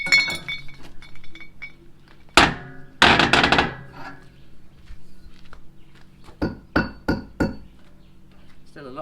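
A hammer strikes with sharp metallic clinks, first a single hit, then a burst, then a quick series of taps, against cracked bricks under a sailboat's keel, with scraping and people talking in between.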